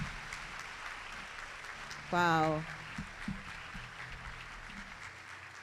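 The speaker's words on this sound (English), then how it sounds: "I think he deserves a louder round of applause" Audience applause at a large summit event, steady and broad, continuing beneath a brief exclamation and an emcee's voice near the middle.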